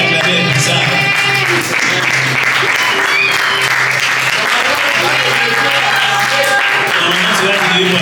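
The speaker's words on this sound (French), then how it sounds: "Allez, acclamez comme ça." A church congregation applauds loudly and steadily throughout, a dense wash of clapping from a large crowd, with voices speaking over the applause.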